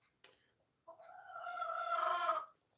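A rooster crows once, a single drawn-out call rising to a strained peak, heard alone at moderate distance after a faint cluck.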